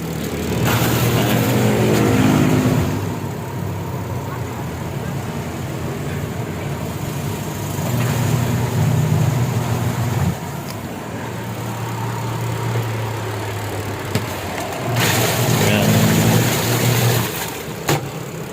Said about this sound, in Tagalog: Ayan, dryer, gumagana na rin.